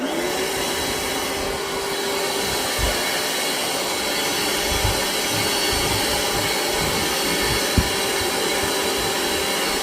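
A Ryobi P770 cordless 6-gallon shop vac runs continuously with a loud, steady motor whine and airflow roar, plus a few brief thumps of the nozzle against a surface.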